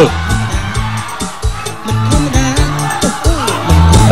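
Crowd at a Khmer boxing match cheering and whooping loudly for the winning fighter, a continuous roar with shouts rising and falling, mixed with rhythmic ringside music.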